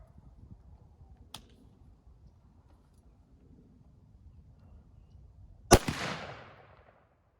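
A Springfield Armory M1A rifle fires a single sharp, loud shot of surplus 7.62 NATO ball ammunition, with a brief decaying echo after it. Quiet outdoor ambience comes before the shot, along with an earlier faint click.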